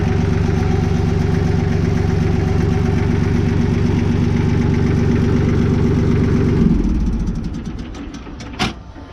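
An old diesel tractor engine runs at a steady, loud, rumbling idle for most of the stretch, then shuts off and dies away, leaving a faint clatter and one brief knock near the end.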